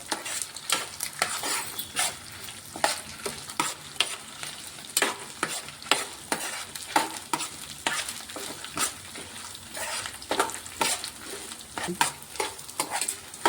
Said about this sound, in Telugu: వెల్లుల్లి ఎండుమిరపకాయలు నువ్వులు ధనియాలు అన్నీ ఆయిల్లో మంచిగా ఫ్రై అయిపోయాయండి